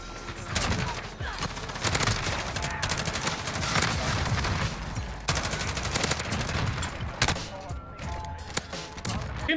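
Light machine gun fire in a video game arrives as rapid bursts of shots, loud and dense across the whole stretch with brief pauses between volleys.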